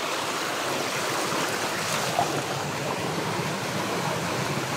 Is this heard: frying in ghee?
no